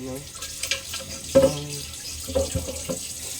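Food is rinsed under a running kitchen tap, water splashing steadily in a sink with a few louder gushes, while someone speaks over it at times.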